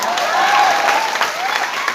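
An audience at a Teachers' Day motivational talk in Patna claps in a dense, lively burst of applause, close and loud, with crowd noise mixed in throughout.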